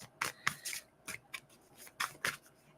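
Tarot cards being shuffled by hand in a series of quick papery riffles and snaps, fairly close and moderately quiet, with short pauses between bursts.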